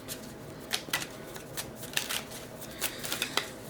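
Playing cards pulled one by one from a deck, a run of soft, quiet papery snaps and flicks at an irregular pace with no talking.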